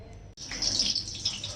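Water poured into a blender jar for a green-onion kadhi base with turmeric and salt, a steady close splashing pour after a brief silent gap, with no talking.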